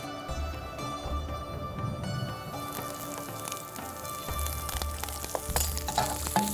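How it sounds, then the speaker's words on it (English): Green chilies fry over full heat in a little oil, giving a steady close sizzle with crackling pops that grow brighter partway through. "And now fry these."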